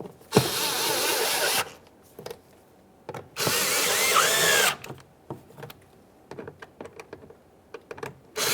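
A power drill drives mounting screws into the exterior door handle of a 2011-2021 Jeep Grand Cherokee, two loud sustained whirring bursts followed by scattered clicks and handling noises.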